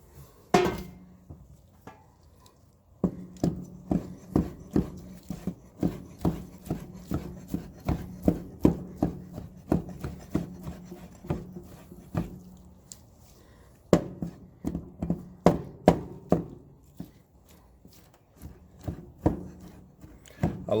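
Handmade cleaver from Villarreal Custom Knives chopping barbecued brisket on a board, a long run of sharp, regular thunks with short pauses between bursts, close and clear.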